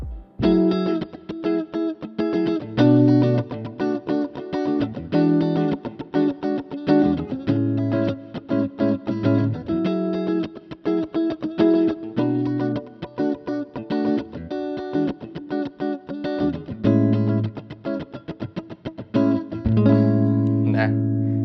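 Strummed chords on an Ibanez AZES40 electric guitar in a clean tone, steady and continuous with a shimmering effect, played alone with no voices.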